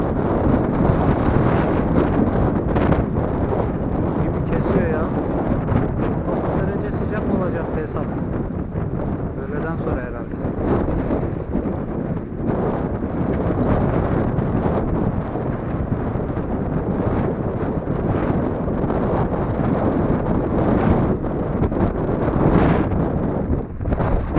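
Strong wind buffets and roars across the microphone continuously on a sunny day while fishing outdoors, a loud rumbling rush with gusts throughout.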